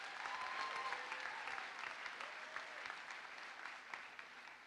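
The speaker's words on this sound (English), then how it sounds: "Join me in a round of applause to pay tribute to these remarkable people." A graduation audience gives sustained applause for faculty and staff, a steady, fairly quiet roar of many hands clapping that eases slightly toward the end, with a faint tone audible early on.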